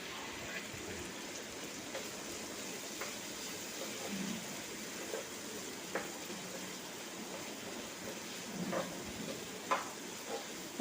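Restaurant-style chicken gravy masala sautés in oil, giving a soft, steady sizzle with scattered small pops and crackles, fairly quiet and continuous.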